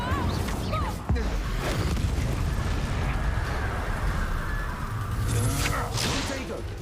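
Incendio fire spell in Hogwarts Legacy on PS5: a dense, roaring whoosh of flame with explosive bursts, sustained and loud for several seconds amid game battle sounds.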